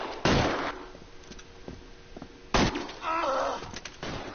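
Two sharp gunshots ring out in the L.A. Noire police shootout, the first loud and close, the second after a pause and followed by a ringing electronic tone with brief clatter, and no voices.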